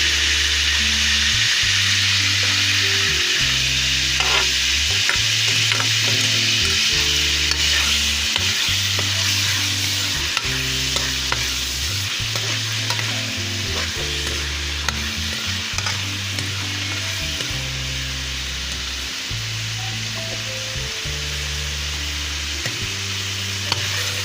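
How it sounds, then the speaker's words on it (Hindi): Ginger garlic paste sizzles loudly and continuously in hot oil at the start of a beef aloo gosht curry, with occasional stirring clicks and a low, rhythmic tone pulsing underneath. "ये 1 टीस्पून लहसुन अदरक पेस्ट शामिल कर रही हूँ।"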